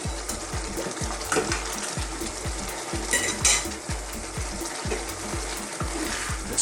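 Fish steaks bubble in a curry masala sauce, a steady busy sizzle and simmer running throughout with regular low thumps and occasional scraping of a spoon against the pan, no voices.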